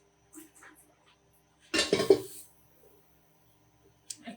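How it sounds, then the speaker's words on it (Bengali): A cooking pot is set down on a stove with one clattering knock and rattle midway, loud against an otherwise quiet kitchen with only faint small clinks before and after. "একটা হাঁড়ি চুলায় বসাই দিছি।"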